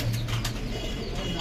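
Pigeons coo close by in a low, repeated burbling call, with a faint flutter of wings early on, brief and fairly quiet.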